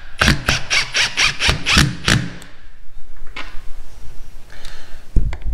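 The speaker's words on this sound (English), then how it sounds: "So we'll run some screws in there now." A power drill drives screws into stripped screw holes, giving a quick burst of rapid squealing pulses followed by quieter, irregular whirring and a few clicks nearby.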